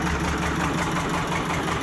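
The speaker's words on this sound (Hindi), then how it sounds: "ये लगी पई है मशीन कंप्रेसर मशीन हवा देंदी है।" An air compressor machine at a service station drones continuously, a loud, steady mechanical hum with a pulsing engine-like throb and no talking over it.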